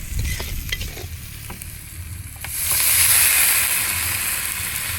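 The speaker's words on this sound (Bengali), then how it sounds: "আমাদের মাংস কষানো হয়ে গেছে এখন আমরা জল দিয়ে দেবো" Water poured into a pan of spiced hill chicken fried outdoors in a village, with light stirring clatter, then a sudden loud sizzle and hiss that stays strong as the liquid hits the hot pan.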